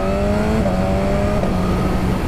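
A 2019 BMW S1000RR sport motorcycle accelerating, its engine a loud, close, steady drone with the pitch climbing and then stepping down as it shifts gear.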